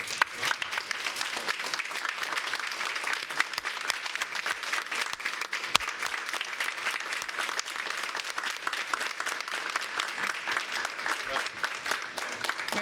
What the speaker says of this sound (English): let's please give a round of applause and a MNPS welcome to our mayor, Mayor John Cooper.